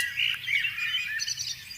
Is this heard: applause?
no